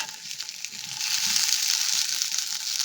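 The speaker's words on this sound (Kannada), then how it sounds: "ಸ್ವಲ್ಪ ಫ್ರೈ ಆಗಿ ಟೊಮೆಟೊ ಕೂಡ" Onion and tomato frying together in a pan, a steady close hiss of sizzling that holds throughout and grows slightly louder partway through, with no talking.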